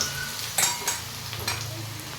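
Bada fritters frying in a pan, a low steady sizzle broken by a few sharp clinks and scrapes of a utensil against the pan, heard up close.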